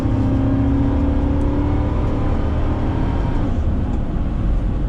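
A Chevrolet Tahoe running on a freshly installed transmission with a correction kit and Corvette servo drones loudly and steadily throughout as the engine revs on the road, with no talking.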